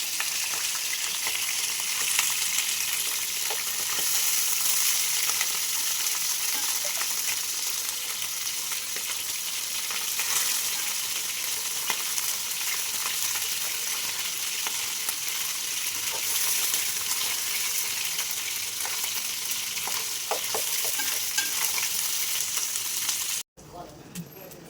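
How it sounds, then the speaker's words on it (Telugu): Pieces of fresh pond fish fry in hot oil in a pan. A loud, continuous sizzling crackle lasts throughout with occasional stirring noises, and it cuts off abruptly near the end. "చేప ముక్కలు మంచిగా వేయించానా"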